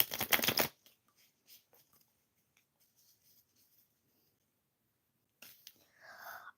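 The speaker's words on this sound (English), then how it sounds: "I'm just pulling random cards," Tarot cards shuffled during a live reading, a dense rapid riffle for under a second, then near silence and a softer burst of card handling at the end.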